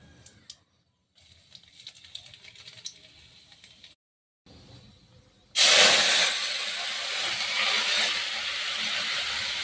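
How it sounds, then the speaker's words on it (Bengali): Garlic and a single dried red chilli hit hot oil for a tempering, first with faint ticks and clinks, then a sudden loud, steady crackling sizzle that fills the rest of the time, close up and alone. "আমি তেলে রসুন ফোড়ন দেব, আর এবার একটা শুকনো লঙ্কা ফোড়ন দেব।"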